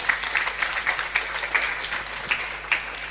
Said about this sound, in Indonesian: Tepuk tangan dulu buat anak kita.